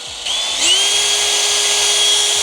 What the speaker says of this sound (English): And if you use the drill,